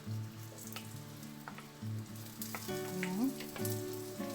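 Butter melts and sizzles in a preheated pan for a chicken à la king sauce, a soft, continuous crackle and hiss with a few faint clinks of utensils.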